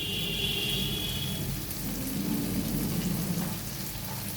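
Ground garam masala sizzles while being sautéed in a pan for a katla fish and potato curry, a soft, steady frying crackle like light rain that stays fairly quiet throughout, with no voices.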